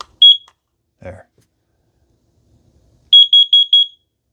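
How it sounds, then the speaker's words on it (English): Kidde carbon monoxide detector in test mode: one short loud electronic chirp, a soft knock, then a burst of four quick piercing beeps close by. "4 quick beeps and a 5-second pause."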